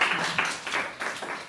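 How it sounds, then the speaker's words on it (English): Brief, light clapping from a small audience at a talk, a few scattered claps that fade quickly. "Give applause."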